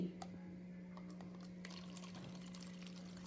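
Water pours steadily into a cup, a soft continuous splashing with a low steady hum in the background.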